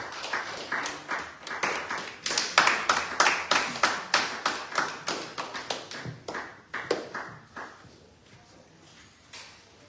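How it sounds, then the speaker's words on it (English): An audience at a legislative internship session gives a speaker rhythmic applause that builds, then slows into sparse single claps and fades to quiet. "Give him a round of applause."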